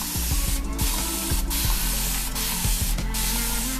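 Amla water sprayed from a bottle onto hair, a run of quick hissing spritzes repeating at a steady pace, close and loud with no talking.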